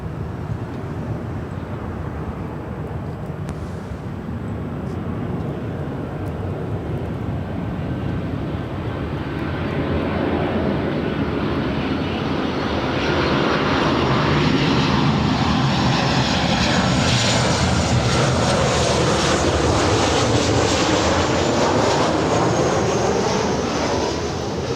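An American Airlines Boeing 737-800 jet at LAX, arriving from Dallas-Fort Worth, roars steadily for the whole stretch, its engine noise swelling louder and brighter toward the middle as it passes close by.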